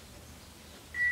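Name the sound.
answering machine beep tone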